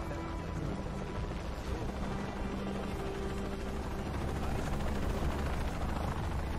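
Helicopter in the video game Shadow of the Tomb Raider, a steady loud rotor drone filling the whole stretch with dense low thumping and broadband wash, no voices over it.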